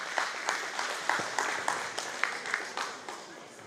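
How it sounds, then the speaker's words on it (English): Applause from an audience at a multicultural community gathering, a thin steady patter of claps with a few sharper hits, fairly quiet and distant, with no talk over it. "A round of applause for Lisa"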